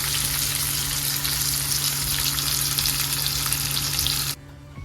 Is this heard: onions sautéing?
yes